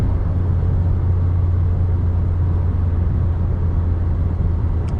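A 1984 Pontiac Fiero cruising in fourth gear, heard from inside the cabin: a loud, steady low engine drone and road rumble with no talking.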